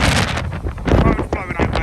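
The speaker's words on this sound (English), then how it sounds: "The wind's bad." Strong wind on the North Wales sea coast buffets the microphone with loud, continuous rumbling gusts that rise and fall, surging hardest near the middle.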